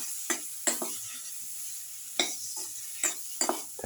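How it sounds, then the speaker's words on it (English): Eggplant (aubergine) pieces going into a hot pan for a garlic eggplant tomato casserole, with a series of brief sizzling scrapes and stirring clatters spaced irregularly over a quiet background. "put in the eggplant pieces or aubergine pieces"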